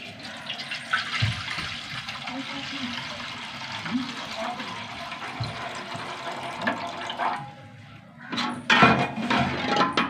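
Four glasses of water pour into a pot while milk is cooked for a Vishu dish, a steady splashing stream that drops out briefly near the end before a louder burst of liquid sounds.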